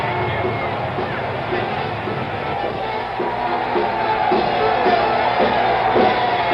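A highly partisan crowd outside Richard Nixon's hotel yells and whoops in a continuous, dense roar of voices and babble, heard at some distance with muffled, low-fidelity broadcast quality.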